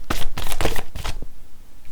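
Tarot cards being shuffled and drawn, a few quick crisp riffling bursts close up, then a brief soft snap as a card is set down, with no voices.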